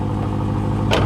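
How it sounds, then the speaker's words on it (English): A BMW E92 M3 V8 engine idles with a steady, low, even rumble for about a second, with a brief brighter burst near the end. "this is what it sounds like when it's idling"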